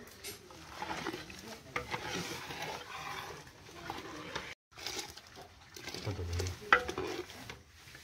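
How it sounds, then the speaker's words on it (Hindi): Dal being stirred into a hot tempering without onion or garlic, cooked outdoors at a village temple: a close sizzle with repeated stirring scrapes, a short gap midway and a faint bird call. "अब इसको तड़के में हम मिक्स कर देंगे फटाफट"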